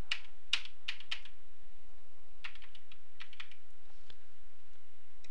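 Keys clatter on a computer keyboard while data is typed into the HexEdit binary editor, a quick run of clicks, a pause, then another scattered burst, close and alone.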